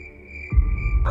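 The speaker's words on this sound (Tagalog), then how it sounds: "Mga huni ng kuliglig at iba pang insekto ang iyong maririnig" Crickets and other insects chirp in a steady, high, continuous drone at night, joined halfway through by a deep low rumble that swells underneath.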